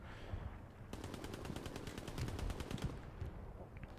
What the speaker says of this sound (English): MG fire coming across from Sticky Feet